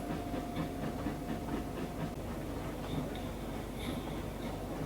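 In the Trainz game, engine 737, a locomotive on a 1901 West Robson line, pushes freight cars onto a siding with a steady rumbling drone and faint rhythmic chuffing early on.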